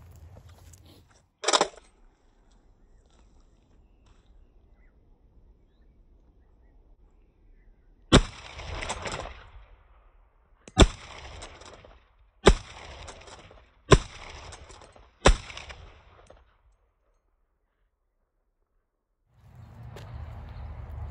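Five sharp rifle shots from an 1880s M1885 Remington-Lee Navy bolt-action magazine rifle, fired outdoors at spaced intervals of about one and a half seconds, each crack followed by a short rolling echo, with a quieter impact early on.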